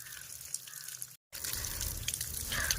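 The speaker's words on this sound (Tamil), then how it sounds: "இந்த மாதிரி நீரோட மாதிரி தண்ணி வந்து வந்துட்டே இருக்கும்" Water runs and drips steadily in a field irrigation channel beside newly planted rice seedlings, a continuous close trickle with a brief gap before the flow resumes, slightly louder toward the end.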